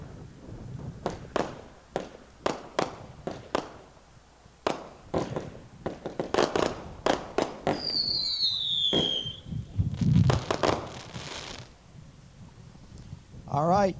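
An Easy Shot firework from Starr Fireworks at a dealer show fires a rapid series of sharp pops and bangs with a whistling rising shot, outdoors and moderately distant, under a crowd's chatter.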